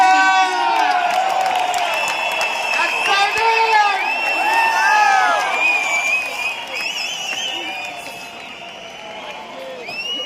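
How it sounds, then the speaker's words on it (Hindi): A crowd cheers, whoops and shouts for a dance performance at an anniversary event, loud and lively throughout, with children's shrill voices and clapping mixed in. "जोरदार तालियों के बीच में।"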